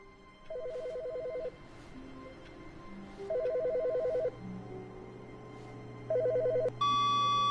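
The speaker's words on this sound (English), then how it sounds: "somebody's phone's ringing?" A phone ringing in The Stanley Parable video game: three separate electronic ringtone bursts, each about a second long with steady pauses between, clear and fairly close over a low background hum, with no talking.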